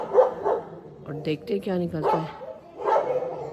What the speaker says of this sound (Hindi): देखो सब कुत्ते हर जगह से भौंक रहे